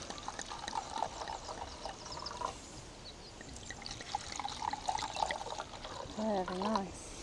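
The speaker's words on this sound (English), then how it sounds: "let's get a glass of wine" Wine is poured into a glass at a barbecue cookout while camping in the New Forest, giving a soft trickling pour under nearby voices and general outdoor background noise.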